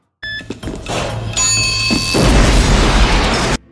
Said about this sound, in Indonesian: Microwave meledak